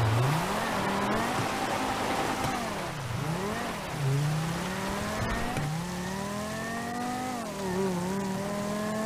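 A car engine in GTA V Online revs and shifts repeatedly as the vehicle drives off, pitch rising and dropping with each gear change, loud and continuous with no talk.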